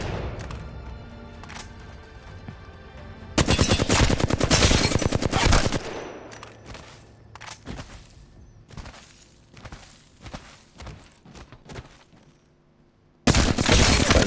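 Flatline rifle gunfire in the Apex Legends firing range, two loud sustained full-auto bursts separated by scattered single shots, clicks and footsteps, close and without talk.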